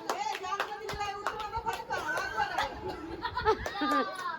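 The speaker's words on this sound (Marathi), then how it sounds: "टाळ्या टाळ्या टाळ्या पब्लिक टाळ्या" A group claps in quick, uneven bursts at a lively Ganpati night-vigil gathering, mixed with laughter and overlapping chatter nearby.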